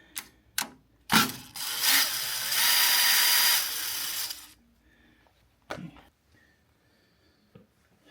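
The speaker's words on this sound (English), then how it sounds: "Get my drill again." A power drill removing screws from a Ricoh C5200S copier whirs in a steady burst of about three seconds, with sharp clicks and knocks of handling before and after.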